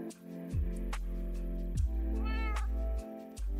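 Minecraft cat meows come in several short, close calls, spaced over a few seconds amid game sounds, with no talking over them.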